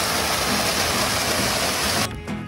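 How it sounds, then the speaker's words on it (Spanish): A mountain waterfall roars in a loud, steady wash of water close by, which drops away abruptly near the end. "¡Cascada!"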